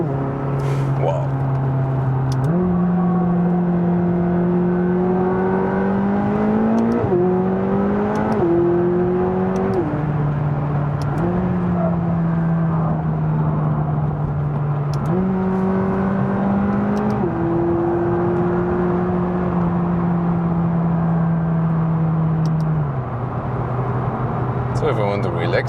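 McLaren sports car accelerating hard on the Autobahn, its engine note climbing steadily through each gear then dropping sharply at every paddle upshift, loud and continuous from inside the cabin with a voice talking over it.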